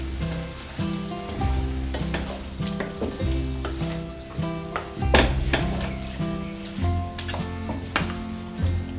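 Lamb karahi with coriander and onions sizzles in a pan while being stirred and mixed, soft crackling under repeated scraping and clanking of the utensil, moderately quiet and close.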